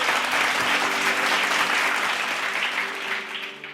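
A church congregation claps together in a sustained, dense burst of applause that fades slightly toward the end.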